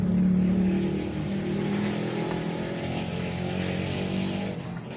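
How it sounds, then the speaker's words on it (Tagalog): A steady engine drone of passing vehicles, a car humming and revving nearby, continuous and fairly loud. "Ingay ng mga sasakyan."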